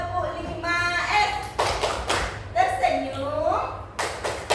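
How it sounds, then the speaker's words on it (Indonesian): Adults in a school training audience do the 'tepuk 5S' clapping chant: chanted voices punctuated by a few crisp, rhythmic clap bursts. "1, 2, 3, tepuk 5S."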